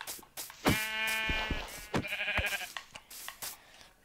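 Sheep in a video game bleats twice, close and clear: a long wavering baa, then a shorter, higher second call, with a few soft game clicks between them.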